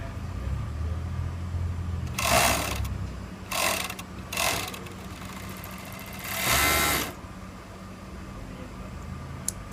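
A Juki MO 6800 serger runs in a few short bursts of rapid mechanical stitching, close and loud, with quiet gaps between runs over a low steady hum.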